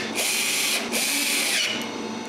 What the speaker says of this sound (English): I screw back the plates.